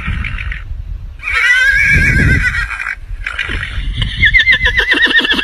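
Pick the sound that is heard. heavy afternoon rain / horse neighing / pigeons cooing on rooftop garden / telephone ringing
horse neighing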